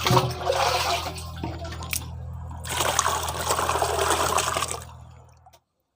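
Water trickles and splashes into a basin being filled halfway for separating newly hatched snail young, a continuous pouring stream that pauses briefly and then stops near the end.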